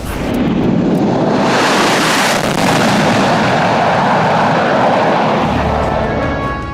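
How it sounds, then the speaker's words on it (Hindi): Military jets roar overhead in a Republic Day parade flypast at Kartavya Path, New Delhi, a C-17 transport with two Sukhoi Su-30 fighters, giving a loud, sustained broadband rumble that holds steady throughout. "एक C-17 और 2 सुखोई 30 मिलकर बनाएंगे भीम फॉर्मेशन"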